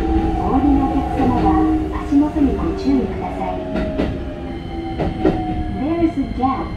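A Keikyu 1500 series commuter train with a Toyo IGBT-VVVF drive runs on the Keikyu Main Line, heard from inside the car: a low rumble, tonal motor whine and rhythmic wheel clatter over joints, with a recorded announcement playing over it.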